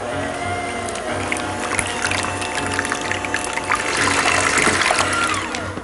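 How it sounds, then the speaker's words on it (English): A kitchen blender whirs steadily through eggs, milk, Italian seasoning, salt and pepper for a casserole, a loud continuous churning with a faint liquid slosh and no talk. "I blended that for about 1 minute,"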